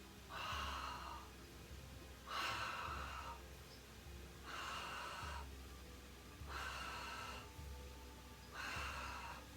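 Slow, audible breaths in and out during a Pilates exercise, five even cycles of inhaling and exhaling, close and fairly soft, with no talking between them.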